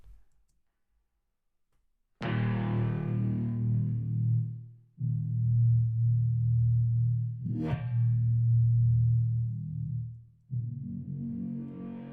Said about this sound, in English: using Ableton's resonator on the Moscow setting here